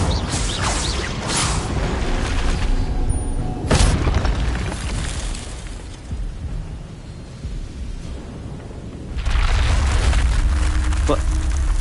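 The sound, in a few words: Incendio fire spell effect in Harry Potter video game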